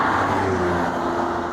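A Jaguar XJ220 supercar engine drones steadily at close range, a coarse, rough-edged hum with a constant pitch and no break.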